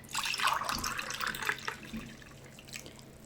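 Two cups of water are poured into a pot for a dessert, a brief splashing trickle up close that tapers off, fairly faint and without speech.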